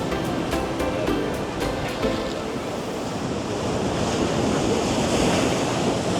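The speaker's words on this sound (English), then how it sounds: "One good wave, and she will be either falling down or soaking wet. And here comes the wave." Ocean surf on a Grand Cayman shore rushes in as a broad, loud wash of breaking wave, building toward the end, mixed with gusting wind noise and no talk.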